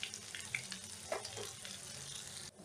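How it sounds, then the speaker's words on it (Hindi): Chopped onions frying in oil in a pan for masoor dal tadka, a quiet, even sizzle with scattered light scrapes and taps from a spoon stirring them. "प्याज को हम अच्छी तरह से चलाएंगे जब तक कि यह लाल ना हो जाए"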